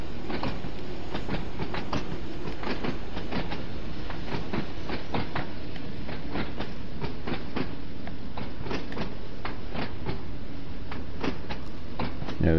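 A Train Sim World 2 train on the Isle of Wight line rumbles steadily up a slight incline with a continuous low roar and a rapid, irregular clatter of wheel clicks throughout. No voices are heard.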